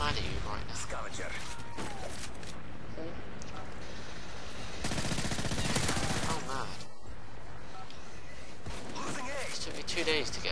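Dense, near-continuous gunfire in Modern Warfare 3, with rapid automatic bursts and heavy booms layered over a busy battlefield mix, while voices talk over it.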